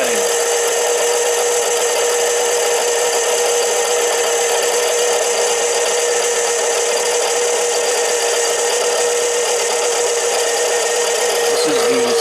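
Harbor Freight 7x10 mini lathe on automatic feed, cutting 304 stainless steel, a loud, continuous whine with a steady machine hum, unbroken for the whole stretch.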